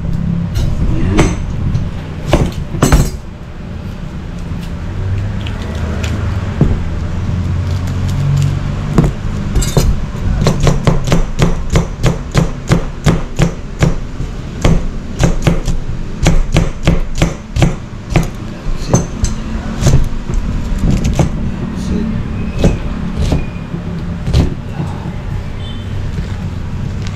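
Knife chopping onion on a cutting board for tuna sisig, a fast steady run of crisp close taps that speeds into dense rhythmic chopping, with a person talking now and then.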